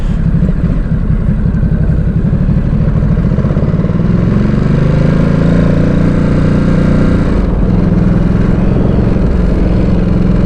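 A Ducati Supersport S motorcycle being ridden, its engine a loud, steady rumbling drone that rises in pitch as the bike accelerates, close and continuous throughout.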